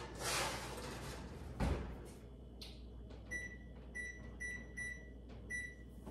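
An oven door opens and shuts with a clunk as cookies go in, followed by a run of short electronic beeps from the oven, all fairly quiet.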